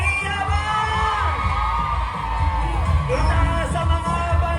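A big crowd lining the streets at the Pasig civic parade cheers loudly in a steady roar of shouts and whoops, with voices calling over the din.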